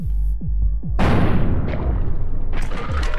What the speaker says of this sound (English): Let's shoot, bro.